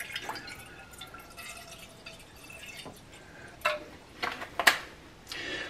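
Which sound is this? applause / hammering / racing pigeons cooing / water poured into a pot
water poured into a pot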